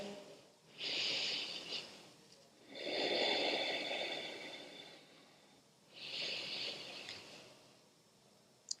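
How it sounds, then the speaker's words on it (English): Long, slow exhalations during a gentle prenatal yoga flow, three drawn-out breathy rushes close to the microphone, each several seconds long and separated by quiet pauses. "Long exhalations."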